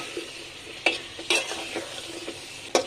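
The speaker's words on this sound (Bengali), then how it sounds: "আলুটা একটু নেড়ে দিব" Potatoes frying in a pan for a curry get stirred, with a low sizzle under a handful of sharp scraping clacks of the spoon against the metal.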